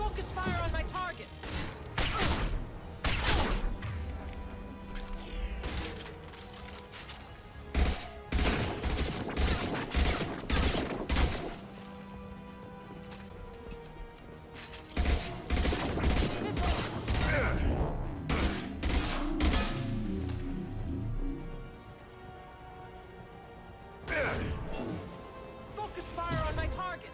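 A Mass Effect 2 firefight on Insanity difficulty: bursts of rapid weapon fire come in clusters separated by short lulls, loud and close, with talk and game voices in between.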